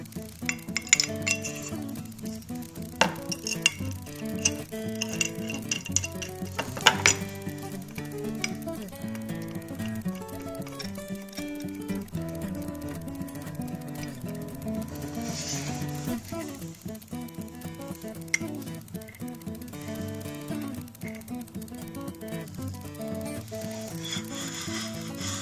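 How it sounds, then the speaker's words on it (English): A router plane fitted with a quarter-inch cutter shaves wood in a steady series of scraping, clicking strokes, with small metallic clinks at close range. "let's go ahead and try the quarter-inch cutter here"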